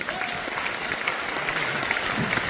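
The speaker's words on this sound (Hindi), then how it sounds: "एक बार ताली बजा सकते हो" Audience at a business seminar breaking into a short round of clapping on request, a dense crowd patter that holds steady for a couple of seconds.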